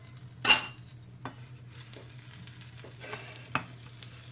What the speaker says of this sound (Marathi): मी जरा तेल सोडते त्याच्यावर